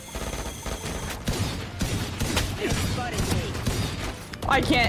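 Gunfire in the Valorant video game, rapid bursts and a steady rattle of shots that run through the clip while a player speaks over the action.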